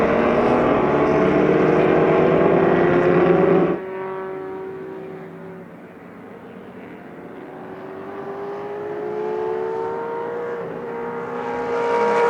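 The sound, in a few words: Shelby and Ferrari 275 GTB race cars racing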